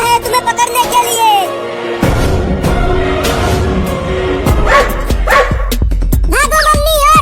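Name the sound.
dog barking while chasing a cat, cartoon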